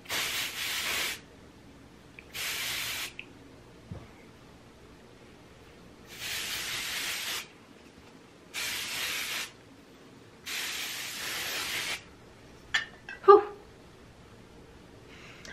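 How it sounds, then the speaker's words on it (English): Dry Bar Triple Sec texturizing spray misted into hair: five separate hissing bursts of about one second each, close and steady, with short quiet gaps and a few faint rustles near the end. "now I'm just gonna spray this in."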